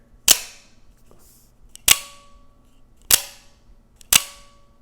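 Four sharp metallic spring pings from a Microtech OTF knife, with a bright ringing decay, evenly spaced about a second and a half apart, close and loud against a quiet background.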